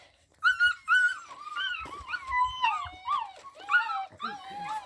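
Several puppies whimper and whine in high, wavering cries, one after another and sometimes overlapping, close by with faint thumps underneath.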